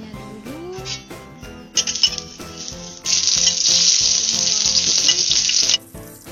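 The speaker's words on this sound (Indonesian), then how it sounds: "Kita akan tumis bawang merahnya dulu ya guys" Shallots hit a hot pan and burst into a loud, steady sizzle that lasts a few seconds and then cuts off, after some light clinks and a soft tonal sound.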